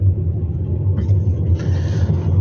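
Low, steady engine and road rumble inside a moving car, heard close and continuous with a faint brief hiss partway through.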